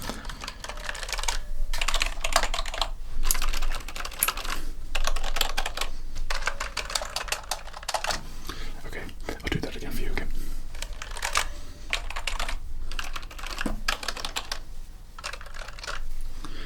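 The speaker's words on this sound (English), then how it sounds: "let me just I'll play you the sound basically of every keyboard" Keys clatter on RGB gaming keyboards in a game store, captured close and crisp as bursts of rapid typing separated by short pauses, with a voice talking softly between and over the keystrokes.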